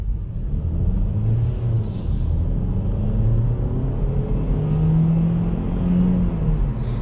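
A 2020 Kia XCeed plug-in hybrid with a dual-clutch gearbox accelerates in sport mode, heard from inside as a steady low engine rumble with rising and falling tonal drone and road noise, no talk.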